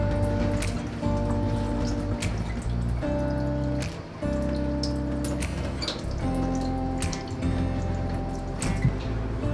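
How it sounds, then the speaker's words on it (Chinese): Running water splashes over red tilefish meat as it is rinsed, a close, continuous patter and trickle with uneven drips and a brief dip partway through, and no one speaks. "接下来的鱼肉当然也要清洗干净。"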